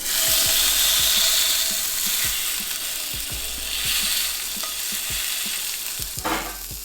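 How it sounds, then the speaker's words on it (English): Steak searing in olive oil on a cast iron skillet gives a loud, close, steady sizzle and frying hiss, with intermittent scraping and tapping clicks throughout. "the sizzle."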